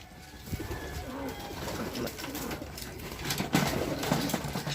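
Pigeons coo softly on and off around a Filipino fancier's loft, including a Verbruggen-line bird, with faint background noise and no talk.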